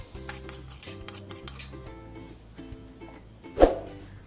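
A metal spoon scraping and clinking against a pan while lifting out fried ginger for ginger curry, light repeated scrapes under soft background music, ending in one louder clink.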